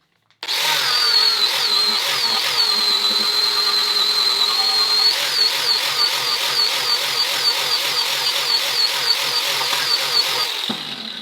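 A power tool spins up and drives a polishing disc loaded with brown compound. Its loud, high whine holds steady, then wavers rhythmically as the disc works, and it runs continuously before cutting off at the end.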